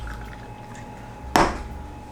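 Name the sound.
pouring rest of IPA beer can into glass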